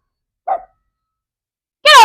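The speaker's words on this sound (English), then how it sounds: "He goes to the neighbor's yard and barks at the neighbors." A dog gives a short bark once and then a louder bark about a second and a half later, near and alone outdoors in a backyard garden.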